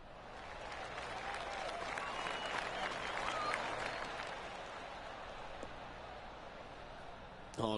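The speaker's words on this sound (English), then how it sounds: "Oh, golf clap." Golf-clap applause from a gallery in the PGA Tour 2K25 video game, a soft steady patter of polite clapping that swells and fades over several seconds with no talking.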